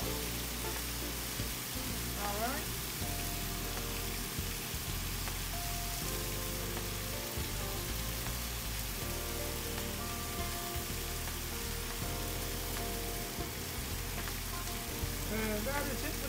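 Sous-vide pork chops sear in a pan with sweet barbecue sauce, giving a steady, soft sizzle and crackle that runs the whole time with faint clinks now and then, and no talk.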